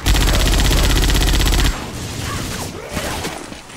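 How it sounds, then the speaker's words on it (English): Machine gun fire in Left 4 Dead 2: a loud, steady rattling burst of rapid shots runs for under two seconds, then cuts off into quieter game ambience with faint clatter. "Machine gun."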